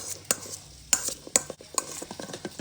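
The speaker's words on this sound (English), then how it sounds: "I'm currently mixing the coleslaw mixture." Coleslaw is stirred in a bowl with a utensil, giving a quick run of close scraping and clacking strokes, several sharp ones among softer rustles, over a faint background hiss.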